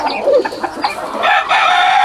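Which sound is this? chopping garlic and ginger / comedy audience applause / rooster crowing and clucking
rooster crowing and clucking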